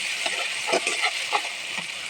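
Chicken and spices fry in a pan with a loud, steady, close sizzle and a few soft stirring scrapes, without talking.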